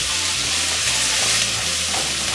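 Rice for Spanish rice browns in a hot frying pan, a steady loud sizzle with scraping stirring strokes running through the whole stretch, close by and with no talk.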